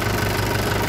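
A Mahindra 575 DI tractor engine running in high gear while sowing mustard on a farm field, a loud, steady, close diesel drone with no break.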